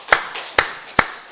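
Church congregation at a Sunday worship service giving three sharp, evenly spaced claps, close and crisp in a quiet room with no talking.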